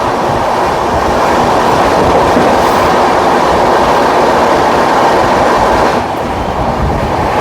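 A train thunders past on the adjacent track during an Indian rail journey, a loud, steady, close roar of wheels and carriages that continues without a break throughout.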